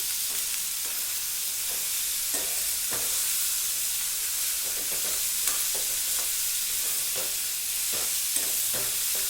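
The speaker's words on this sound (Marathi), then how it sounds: "आता टाकते मी यामध्ये कोबी. मस्त परतून घ्यायची." Shredded cabbage sautéing with tomato in a pan gives a steady hiss throughout, broken by soft scraping stirs at irregular intervals, close and moderately loud.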